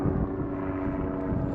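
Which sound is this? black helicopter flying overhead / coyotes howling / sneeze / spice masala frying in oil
black helicopter flying overhead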